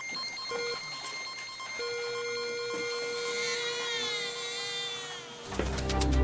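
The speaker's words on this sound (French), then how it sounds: "un bruit de fond de machines électroniques, suivi d'un bip électronique qui se transforme en un bébé qui pleure" Electronic machinery hums steadily beneath sustained pure tones and a series of clear beeps, ending in a sudden louder, rougher burst of sound.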